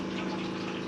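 Water pouring steadily into a motorhome's tank, a continuous close gushing rush with no pauses.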